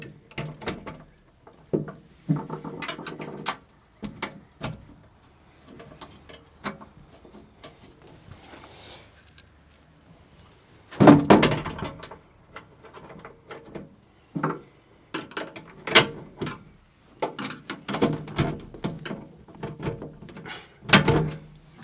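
A metal door being fitted onto an electrical box produces scattered clicks, knocks and scraping handling noises, with one louder clatter midway and bursts of rattling toward the end.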